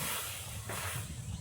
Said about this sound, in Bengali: মায়ের এই উনানেই আমি দুধটা জাল দিয়ে নেব। দিচ্ছি দুধ,